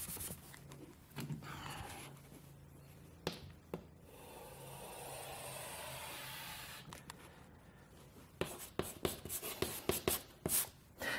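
A pen scratches lines across paper during a sketching exercise, in quiet bursts of scraping strokes with a run of quick, sharp strokes near the end.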